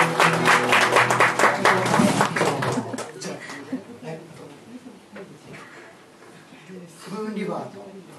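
Applause rises from the audience at a live concert, a CD release show, loud at first and then fading. A speaker's voice and some chuckles come in over the tail.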